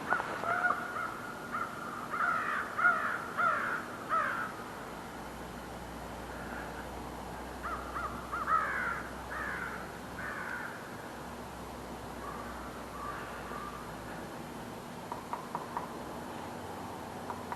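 Crows caw in bursts of several calls in the Maine woods on a morning walk, loud at first and then farther off, over a quiet forest background.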